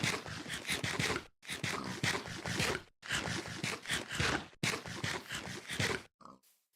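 Repeated Minecraft pig grunts and oinks in quick bursts, with short pauses between clusters, loud and close.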